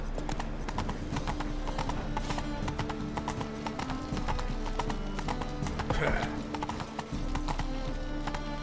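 Hooves of the horse Roach clip-clop steadily in a fast trot in The Witcher 3: Wild Hunt, close and continuous, with a brief snort or whinny partway through over ambient game sound.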